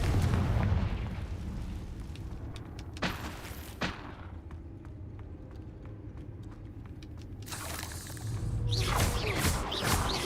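The Confringo explosion spell in the video game Hogwarts Legacy, with booming blasts near the start and a loud burst of explosive crackle toward the end amid game noise.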